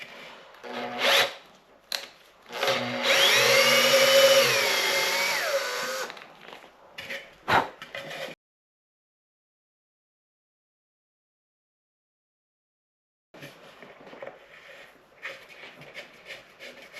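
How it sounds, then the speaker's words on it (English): Tap cutting a 3/8 BSP (10mm) thread slowly into plastic, giving a close, squeaky grinding rub for a few seconds, then scattered scraping, a long silence, and faint rustling. "So 3/8 BSP or 10mm thread tap. Go really slow because it is plastic."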